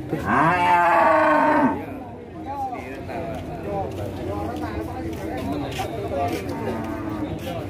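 A loud, drawn-out moo from a Singosari cow opens, then people talk over a busy background with more animal sounds nearby at a cattle sale.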